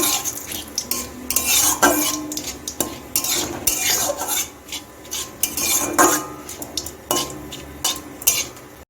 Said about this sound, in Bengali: রাঁধনিটা একটু ভেজে নিচ্ছি তেজপাতা দিয়ে দিচ্ছি একটু ভেজে নিচ্ছি